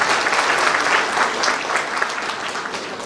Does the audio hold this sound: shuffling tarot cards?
no